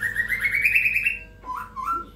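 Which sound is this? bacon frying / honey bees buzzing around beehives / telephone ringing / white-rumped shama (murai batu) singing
white-rumped shama (murai batu) singing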